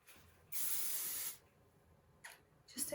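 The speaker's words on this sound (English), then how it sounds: "just going to get some of the hairspray" A hairspray can gives one strong, close hiss of just under a second onto braided hair, followed by quieter rustling and a couple of brief handling sounds.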